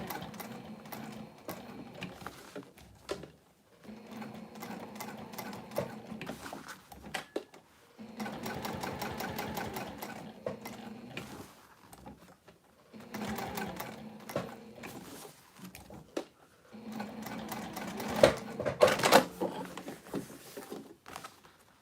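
A sewing machine stitches a tag onto a bowler bag in several bursts of rapid mechanical rattling separated by quiet pauses, close and fairly soft.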